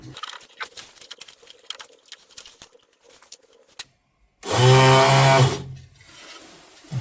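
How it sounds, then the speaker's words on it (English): A VW Golf Mk2 windscreen washer pump wired directly to the car battery whirs loudly for about a second, then cuts off, after scattered handling clicks and rustles. "Now I want to make sure that the washer pump works, so I'll just connect it directly to the battery."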